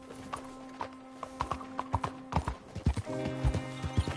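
Horse hooves clip-clop in a steady trotting rhythm in the video game Red Dead Redemption 2, close and clear, with a horse whinnying briefly partway through.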